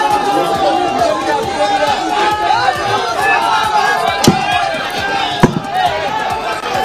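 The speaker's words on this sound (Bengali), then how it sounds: "আবারও পার্থ চট্টোপাধ্যায়কে উদ্দেশ্য করে উড়ে এলো চোর চোর স্লোগান" A crowd shouting the slogan "thief, thief" at Partha Chatterjee as he is brought to court, with loud overlapping voices and shouts that go on steadily in a noisy, busy crowd.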